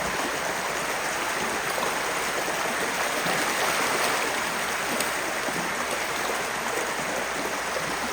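Water pours continuously from a koi pond filtration shower at a Japanese koi farm, a loud, even, close-up splashing rush that holds steady throughout.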